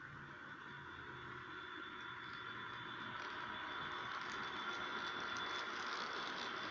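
Faint, steady rumble and light rattle of an SD40-2 model locomotive pulling cars around a layout, a low continuous running noise with a thin high whine and no clear voices.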